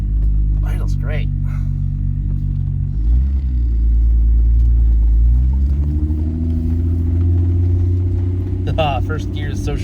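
Restored car engine idles steadily with a deep, continuous low rumble and a brief rise in pitch, heard from close by at the start of a test drive, with faint clicks and handling sounds above it.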